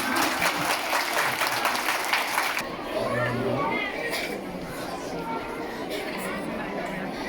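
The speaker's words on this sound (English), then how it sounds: "Please give them a round of applause." An audience applauds at a Sacred Heart Girls school event, steady dense clapping that carries on throughout, mixed with crowd chatter and a voice speaking over it.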